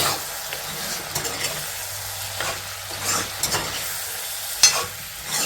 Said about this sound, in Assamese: কাবুলি বুটখিনি দি পিনে ধুনীয়াকৈ ফ্ৰাই কৰোঁ